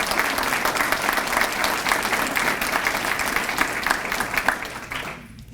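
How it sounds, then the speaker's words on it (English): Audience at an annual awards ceremony applauding steadily for about five seconds, fairly close and dense, before the clapping fades out. "A big round of applause"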